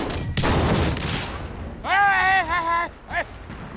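Blasting explosions during a wartime anti-Japanese resistance drama, heard as a loud burst of booms and crackling debris at the start, followed by a shouting voice over the settling noise.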